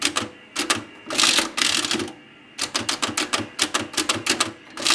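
A Dalton adding machine clatters loudly up close as it is operated, with rapid bursts of mechanical clacks and cranking strokes in rhythmic runs separated by brief pauses.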